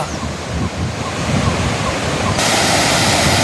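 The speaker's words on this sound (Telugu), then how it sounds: "చెరువు దగ్గర కట్టిన చెక్ డ్యాము ఇంత నిండుగా ప్రవహిస్తున్న చూడండి ఆ గలగలలు ఆ జలజలలు" Water pours over a full check dam on a lake, a loud steady rushing roar that surges brighter partway through, with a voice briefly audible underneath.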